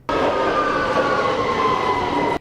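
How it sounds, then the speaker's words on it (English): A London Underground tube train rumbles steadily with a droning hum and faint high whine, loud and close, running continuously with no voices. "the tube,"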